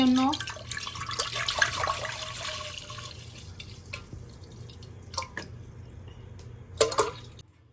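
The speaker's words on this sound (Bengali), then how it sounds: "এখন আমি দেড় লিটার পরিমাণ দুধ ঢেলে দিচ্ছি" Milk, about one and a half litres, pours into a cooking pot with a steady liquid splash that fades to scattered drips, while a person talks over it.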